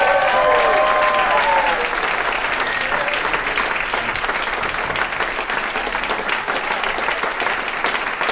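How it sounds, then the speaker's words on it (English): An audience claps for musicians at a classical music and beer event, sustained and loud; a brief whistle-like tone sounds near the start, then the crowd keeps clapping steadily and evenly. "can I have a big round of applause for our musicians tonight?"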